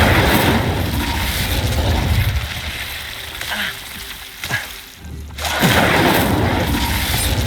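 Fire spell cast in Hogwarts Legacy, a roaring, sizzling burst of flame that crackles steadily, dips briefly into a few sharp impacts, then surges back loud and close.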